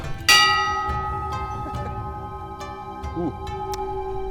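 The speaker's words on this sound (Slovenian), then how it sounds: "Evo, še zvonček za srečo." A small bell is struck once, ringing clearly and then slowly fading with a sustained metallic tone, while soft clicks and faint noises occur nearby.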